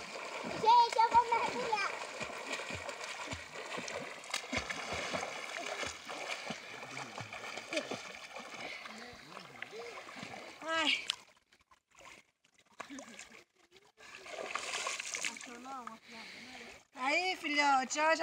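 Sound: water splashing as a child learns to swim in a reservoir

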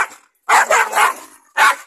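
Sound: puppy barking

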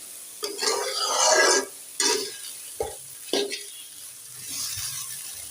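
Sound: frying and stirring flat beans and potatoes

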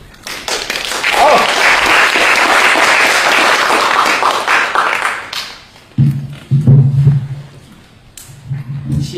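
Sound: theatre audience applause

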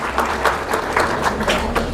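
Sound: audience applause

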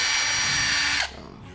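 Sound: Mace Plus cordless drill running at medium speed

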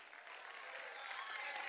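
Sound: applause

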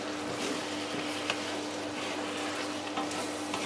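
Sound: stirring chicken adobo with soy sauce in pot

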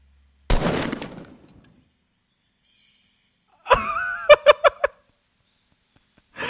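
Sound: gunshots fired in a video game

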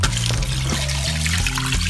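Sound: water poured into cooking pot of vegetables

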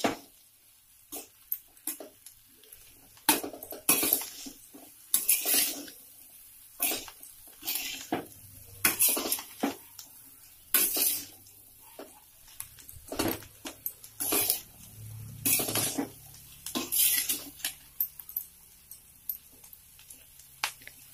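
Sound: stirring ginger and garlic pickle with salt in a pan

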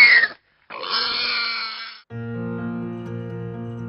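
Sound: pigs grunting

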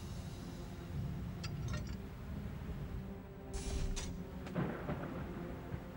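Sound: thunderstorm with thunder

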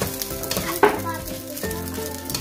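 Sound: fried rice sizzling and being stirred in a pan

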